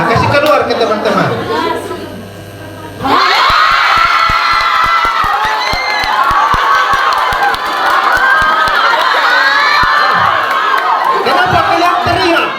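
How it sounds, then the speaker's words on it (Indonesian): A crowd of senior high school students in a school hall bursts into loud, sustained shouting and cheering after a few seconds of quieter chatter, and the noise stays intense and close throughout. "Kenapa kalian teriak?"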